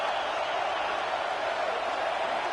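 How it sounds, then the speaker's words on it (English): A football stadium crowd roars steadily to urge on the defense during a red zone stand in a Tennessee vs South Carolina game, a dense, unbroken wall of noise. "And here comes the noise. This crowd is trying to inspire this defense to make a big red zone stop."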